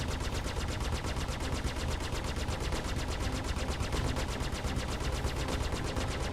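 Twin Badger ship guns in Star Citizen firing continuously, a dense, even stream of rapid blasts with no pauses, fairly quiet in the mix and without talk.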